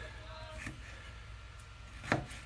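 A kitchen knife chops peppers into pieces on a cutting board, with a few soft, spaced cuts and one sharper, louder knock near the end over quiet room noise.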